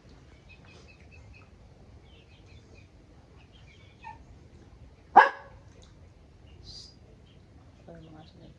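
A dog gives a single sharp bark at mid-distance around lunchtime outdoors, with faint chatter, birds and light background noise before and after.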